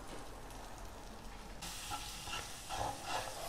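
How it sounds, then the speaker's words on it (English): A fresh tamarind spice paste with turmeric fries in a pan, giving a steady low sizzle that thickens after the first second or so, with faint stirring scrapes and no talking. "Fry this paste."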